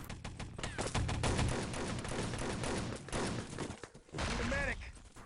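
Rifle fire and other gunfire in the Enemy Territory shooter during a 6-on-6 LAN tournament match: dense, continuous bursts of shots with overlapping game effects, fairly loud, briefly dipping before resuming.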